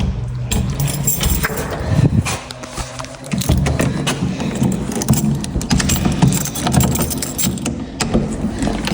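Keys jangle in metallic clinks and rattles scattered across the clip, over a low engine-like rumble in the background.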